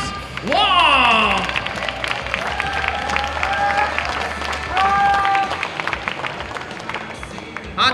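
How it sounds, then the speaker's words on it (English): Audience applause and cheering fill the hall at the 2017 Asia Pacific Yo-yo Championships contest finals: dense, steady clapping throughout, with whoops and raised voices rising over it early on. "I want y'all to give a huge round of applause to the guy who made everything happen, Hans Wong!"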